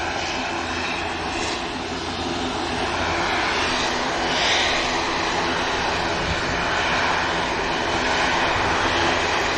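A Virgin airliner taxis at Manchester Airport, its engines giving a loud, steady jet roar and whine that holds evenly throughout, fairly close and with no voices over it.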